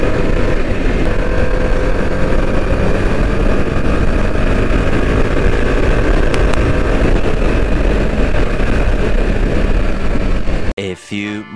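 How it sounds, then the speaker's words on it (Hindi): A motorcycle rides fast on a road, its engine and wind roar loud and constant for most of the span before cutting off abruptly near the end into brief speech. "तो चलो बाइक को भगाते हैं।"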